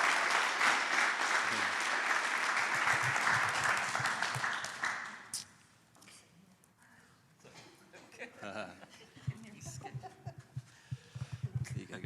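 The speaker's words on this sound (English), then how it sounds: "welcome Robin and Karen Noad, let's give them a big round of applause." An audience in a church hall applauds loudly and steadily for about five seconds, then the clapping fades out and is followed by scattered chuckles and quiet talk.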